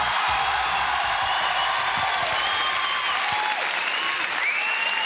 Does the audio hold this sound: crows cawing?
no